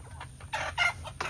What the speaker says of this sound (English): Mama Lugnut loves her chickens.